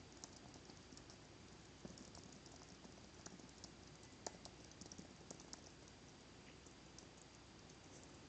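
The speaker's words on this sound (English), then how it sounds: "Trying to type on my leg is not working." Keyboard typing on a lap cushion, a quiet, uneven patter of soft keystrokes with occasional slightly louder clicks over faint room hiss.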